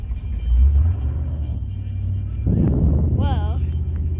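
A Chevrolet car rumbles past at a steam locomotive festival in Ravenna, Kentucky, a deep engine rumble swelling in the middle, with a voice talking over it and a brief warbling tone near the end.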